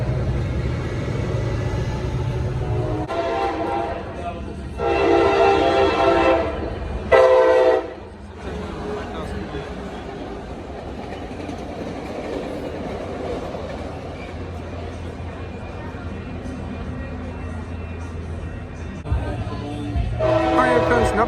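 A Coaster commuter train bound for Oceanside rumbles past with a heavy rolling roar, sounding two long horn blasts, one early and one near the end.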